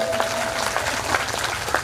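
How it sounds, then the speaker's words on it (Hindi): Loud, dense applause from a large audience at a multi-day devotional Krishna-Sudama katha gathering, a steady wash of many hands clapping close by throughout. "जोरदार तालियां इन लोगों के"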